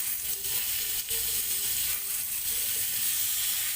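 Beef steak sizzles in a pan after being flipped to cook the other side, a soft continuous frying hiss with faint crackles, steady and close with no talking.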